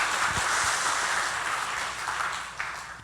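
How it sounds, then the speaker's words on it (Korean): A church congregation applauding together, a dense, steady wash of many hands clapping that fades slightly toward the end. "우리 다 같이 한번 하나님께 영광의 박수를 드리겠습니다"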